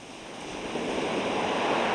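Waves breaking on the pebble beach of Étretat in Normandy, a steady broad wash of surf that swells slightly louder partway through, continuous and without voices.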